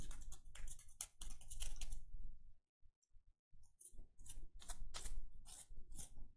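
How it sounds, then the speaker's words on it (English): Dense clicking and rattling from the keys of an HP laptop keyboard being cleaned of dirt, up close and fairly loud, with a brief pause midway before the rapid tapping resumes. "We're going to try to get the dirt out of the keys some."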